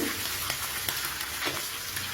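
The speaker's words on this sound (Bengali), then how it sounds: "সরষের তেল দিয়ে হালকা করে মাছটা একটু ভেজে নেব" Dense, continuous sizzle of katla fish frying in hot mustard oil, crackling steadily at close range with faint spattering pops.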